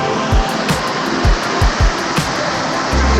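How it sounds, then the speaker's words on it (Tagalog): Strong rushing water roars loud and close in a steady, dense wash, with occasional low thumps beneath the constant torrent. "Lakas ng tubig!"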